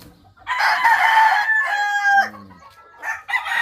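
A White Kelso broodstag rooster crows once, loud and close, in a drawn-out call that trails off. A shorter call follows, and there is no talking.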